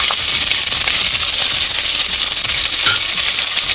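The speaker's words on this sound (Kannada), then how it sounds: "ಈಗ ಈರುಳ್ಳಿ ಆ್ಯಡ್ ಮಾಡ್ತೀನಿ. ಚೆನ್ನಾಗಿ ಫ್ರೈ ಆಗಬೇಕು ಈರುಳ್ಳಿ" Chopped onions sizzling in hot ghee in a pan, a steady close hiss with faint crackles running throughout, no talking.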